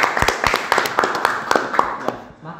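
Hands clap in a quick, steady rhythm of sharp individual claps for a few seconds and then stop. The crowd sounds small and close.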